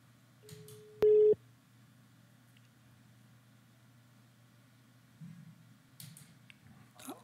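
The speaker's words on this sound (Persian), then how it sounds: "نفر زنگ زدند و زنگ خاموش شد" A brief, loud steady telephone tone sounds once during a radio phone-in broadcast, standing alone against faint background hiss, with a few soft knocks later.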